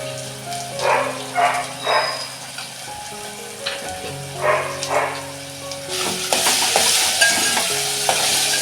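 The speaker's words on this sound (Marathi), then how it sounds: "हे असं चांगलं परतून घ्यायचं" Tomatoes with salt are sautéed and stirred in a pan for misal. Bursts of spatula scraping come in short clusters over a low background, and a louder, fuller sizzle takes over in the last few seconds.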